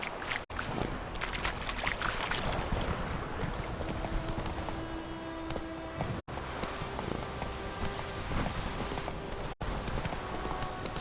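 Roach the horse clip-clopping along in The Witcher 3: Wild Hunt near Kaer Morhen, a steady rhythm of hoof falls under a busy game soundscape, continuous and moderately loud with no talk.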